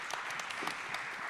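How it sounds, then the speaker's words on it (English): Conference audience applauding the panelists at a spinoff and Horizon Europe info day, a short, even burst of many hands clapping at moderate distance. "Big applause for our panelists."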